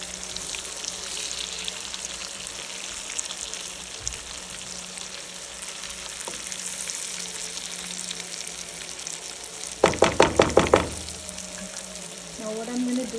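Stuffed eggplants sizzle in a hot pan, a steady close frying hiss throughout, broken near the end by a quick run of clattering knocks as they are flipped, then sizzling again.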